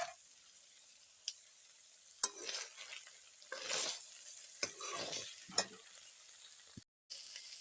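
Onion stir-frying with black pepper and garlic powder in a pan, a steady sizzle with a few sharp scrapes and clinks of a spoon stirring through, moderately close, no talking.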